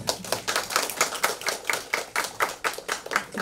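A small panel talk audience gives polite applause for the guest professors, a sparse patter of distinct, sharp claps in a loose, quick rhythm that comes across close and moderately loud.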